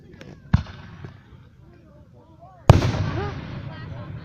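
Fireworks go off outdoors at night: a sharp pop followed by a sudden loud boom that rolls and crackles as it fades, with people talking faintly underneath.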